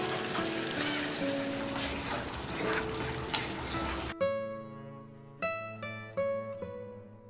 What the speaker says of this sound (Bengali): এই পর্যায়ে সামান্য পরিমাণ চিনি দিয়ে আরও কয়েক মিনিট মুইঠাগুলো রান্না করে নিচ্ছি।